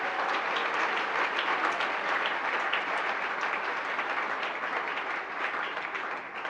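A church congregation applauds during a sermon, dense sustained clapping from many hands filling the room for several seconds.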